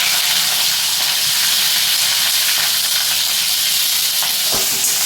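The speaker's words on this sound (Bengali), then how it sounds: "পেঁয়াজগুলোকে হালকা লাল করে একটু ভেজে নেব" Chopped onions fry in hot oil with cardamom, cloves, cinnamon and bay leaf, giving a loud, steady, close sizzle and hiss throughout, with no talking.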